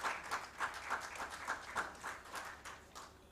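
A conference audience applauds for the session's speakers, a faint, steady patter of many hands clapping with rhythmic pulses, heard from a distance with no talking.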